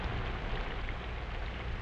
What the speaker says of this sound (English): Rain, rain. It soaks into the soil.